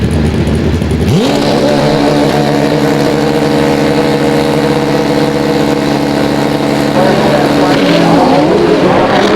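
A 2002 AMA Prostar Pro Stock drag racing motorcycle idling, its engine firing into a loud, steady, deep throbbing rumble after a brief rising start, then holding close and even.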